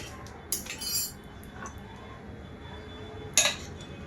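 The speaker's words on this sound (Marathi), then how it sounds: "आणि आता आपण हे व्यवस्थित मिक्स करून घेऊया।" A spoon clinks and scrapes against a pressure cooker while pav bhaji is mixed with masala, a few sharp metallic knocks over a quiet background hiss, no voices.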